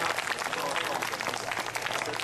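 Concert audience applauding at a 2012 April 6 memorial opening concert: a dense, steady wash of many hands clapping, fairly loud and continuous throughout, with no clear break.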